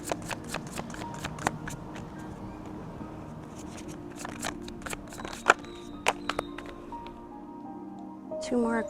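Oracle cards being shuffled by hand, a run of quick papery riffles and soft snaps at close range, with a voice speaking over part of it.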